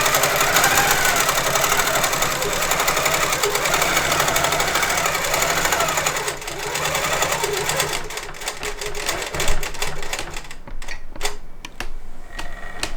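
A longarm quilting machine stitches binding onto a quilt still on the frame, running as a steady close mechanical whir for about ten seconds, then breaking into stuttering short bursts and pauses toward the end.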